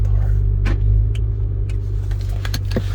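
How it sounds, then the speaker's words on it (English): A 2021 Audi RS5 Sportback's exhaust rumbles with a deep, steady idle drone close by, punctuated by a few light clicks and ticks. "Wow, you can really hear that exhaust now."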